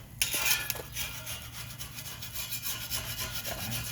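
Grease scraped off the searplate of a Breeo X19 fire pit, a steady rough rasping of a metal scraper across hot steel that continues without pause.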